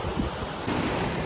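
Sea waves crash against coastal rocks in a loud, unbroken roar of surf mixed with wind noise, swelling a little louder halfway through.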